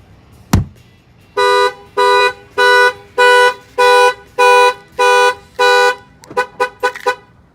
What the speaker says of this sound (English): it will fire off the alarm.